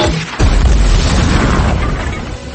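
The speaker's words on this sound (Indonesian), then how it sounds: "Levi meledakkan tembok gereja itu" An explosion blasting through a church wall in a film: a sudden heavy boom, then a sustained roaring rumble of debris that slowly fades.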